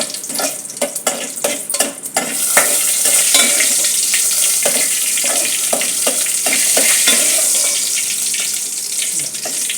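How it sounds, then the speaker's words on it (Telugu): A tempering of asafoetida and two dried red chillies crackling in hot oil: quick sharp spits and pops at first, then settling into a loud, continuous close sizzle. "పోపు వేసేసుకోవడమే."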